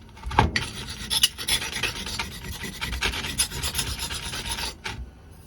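Steady rasping grind of a knife edge dulled on a Harbor Freight 1x30 belt sander, close and continuous for several seconds with a brief sharp scrape near the start.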